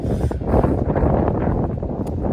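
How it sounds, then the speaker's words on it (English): Loud, rough wind buffets the microphone in continuous low gusts at a railway station, with no voices. "It's a windy day here today"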